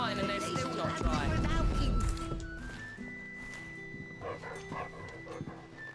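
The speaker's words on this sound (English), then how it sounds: "Hey, a dog." A dog in the Final Fantasy XVI video game barks a few times in a quick burst at close range, alongside game sounds and voices talking.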